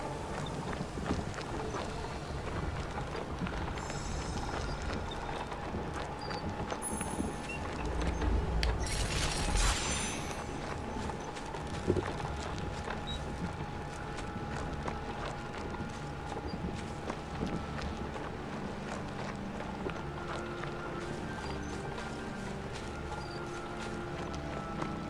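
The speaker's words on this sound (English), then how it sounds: "I keep forgetting I have a horse" A horse's hooves clip-clop at a steady walking rhythm in King's Bounty 2, the close, even footfalls running throughout under faint ambient game sound.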